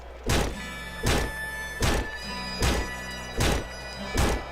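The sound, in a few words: sledgehammer hits in the video game Nuclear Throne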